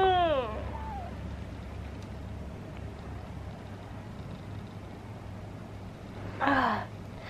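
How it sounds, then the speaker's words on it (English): A woman yawns at the start, a long voiced exhale that falls in pitch and fades after about a second, then a quiet room with a brief breathy stretch sound near the end. "now I've got the yawns."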